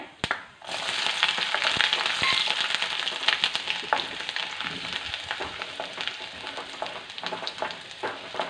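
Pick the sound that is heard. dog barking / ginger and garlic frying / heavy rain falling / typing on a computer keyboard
ginger and garlic frying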